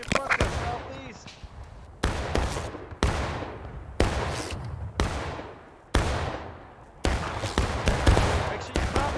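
Rifle volleys in the Civil War game War of Rights: loud, sharp reports about every one to two seconds, each followed by a long decaying echo, with a voice talking between shots.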